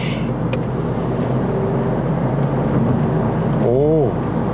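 A Volkswagen Golf 2.0 TDI drives in sport mode with a steady, loud engine and road drone throughout, and a brief rising-and-falling whine near the end.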